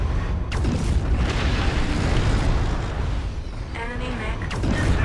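Destruction of an enemy mech in MechWarrior Online: a loud, sustained rumbling blast with metallic creaks and bursts, filling the whole stretch at steady high volume.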